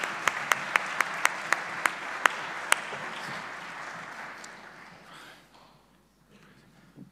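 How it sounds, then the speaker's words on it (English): Loud crowd applause at the Luxembourg Official Top 150 event, sharp individual claps standing out at first, then fading to quiet after about five seconds. "A big round of applause."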